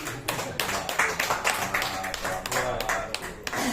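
A group claps for Pak Hartono at an evaluation meeting, with close, fairly loud clapping in an uneven rhythm and voices mixed in over the short burst.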